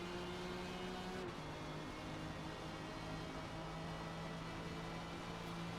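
Race car engine in Forza Motorsport multiplayer, held at steady high revs with a brief shift dip near the start, a loud continuous drone with other cars faintly around it.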